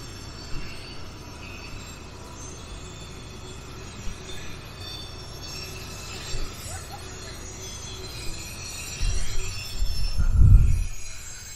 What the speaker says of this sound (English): now you can see we have a much better view of the train going around the curve